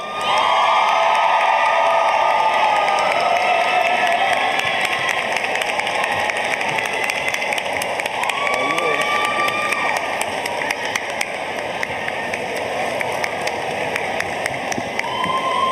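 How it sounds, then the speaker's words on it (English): A commencement crowd at an art and design school ceremony applauds and cheers for the graduating class, with sustained loud clapping, whoops and shouts filling the whole stretch, and voices audible within the din. "a round of applause for the class of 2025"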